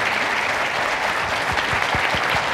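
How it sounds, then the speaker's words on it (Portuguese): Steady, dense audience applause at a foundation meeting, honouring a landscape architect after an award, continuous and fairly loud throughout with a few low thumps beneath the clapping. "eu acho que é um merecido aplauso nesta altura para o nosso arquiteto"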